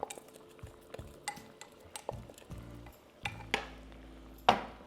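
Jambalaya ingredients with rice stirred in a pot, giving scattered scraping and clinking knocks of a utensil against the pot at an uneven pace, fairly quiet overall.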